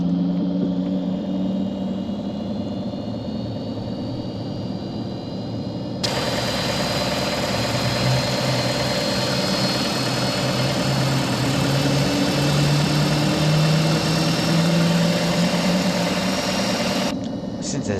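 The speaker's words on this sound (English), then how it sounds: "Listen to the sound of that engine, that is fantastic." A Citation Jet 525 jet engine spools up in the cockpit, a steady droning rumble joined by a rising whine that abruptly brightens into a loud, sustained full-range roar before easing slightly near the end.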